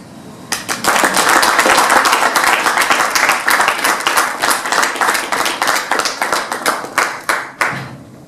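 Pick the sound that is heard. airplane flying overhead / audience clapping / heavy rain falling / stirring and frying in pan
audience clapping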